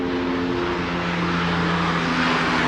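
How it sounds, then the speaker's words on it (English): A mosquito-spraying helicopter passes overhead as a steady, loud broadband engine and rotor drone with a low hum, constant throughout without any talk. "Do mosquito spraying helicopters?"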